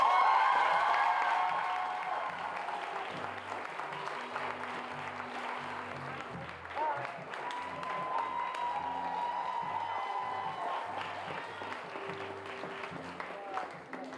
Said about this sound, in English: let's give a round of applause for Miss Tashay Akwan and Charlene Roy.